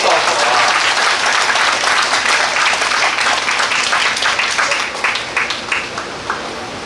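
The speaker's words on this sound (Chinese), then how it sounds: "大家掌声" Loud, dense applause from a large audience at a Buddhist blessing ceremony's thanksgiving evening, sustained and then tapering off toward the end.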